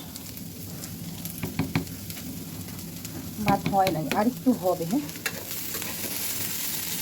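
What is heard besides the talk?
potatoes frying and being stirred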